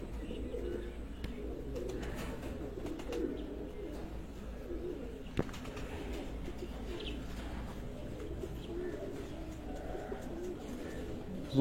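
Pigeons coo softly and repeatedly in a loft, low murmuring calls layered over a quiet steady background with a few faint chirps.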